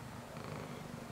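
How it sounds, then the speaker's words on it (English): A soft, quiet cat purr close to the ear, a low rhythmic rumble held steadily for a moment. "She's purring."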